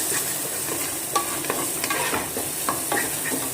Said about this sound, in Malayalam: ഇനി ഈ ഇഞ്ചിയും വെളുത്തുള്ളി നമ്മൾ ചതച്ച് വെച്ചതും ഇതിലേക്ക് ഇട്ട് കൊടുക്കുക.